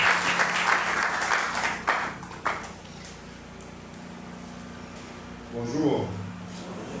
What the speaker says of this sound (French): On accueille, mesdames et messieurs, sous vos applaudissements, Monsieur Esaïe Granville